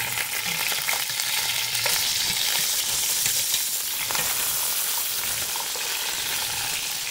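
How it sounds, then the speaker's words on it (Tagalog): Chicken pieces partially frying in a pan, a dense continuous sizzle and crackle with occasional stirring, steady and close throughout with no voices. "doing this guys, partially fry, is to make it burn the chicken, and also the smell will be eliminated"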